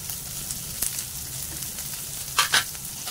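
Green chillies and ginger hit hot oil for potato bhaji, a continuous crackling sizzle with a few sharp spatters and pops near the end, close and alone.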